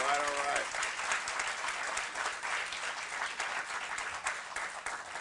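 An audience at an Aurora Fire Department swearing-in ceremony gives sustained applause for the new 18th fire chief, Dave McCabe. A voice is briefly heard at the start before the clapping fills the room.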